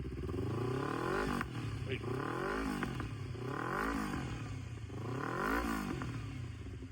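A Honda CBR250RR motorcycle engine revs up and down in three rising-and-falling bursts, loud and close, with a steady exhaust rumble between blips.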